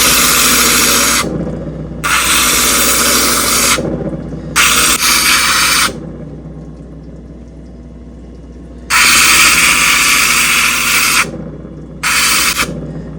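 A power tool bevels a baroque jade bead in loud, close bursts of grinding whine, about four separate runs divided by quieter pauses, with water and mechanical noise in the background.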